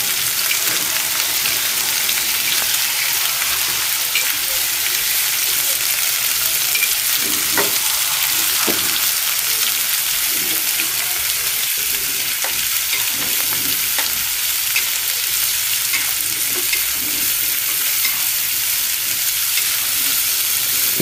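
Ground pork seasoned with black pepper is stirred in a hot pan, a loud steady hiss of frying that runs throughout, with occasional scraping clicks from the spoon and no voices.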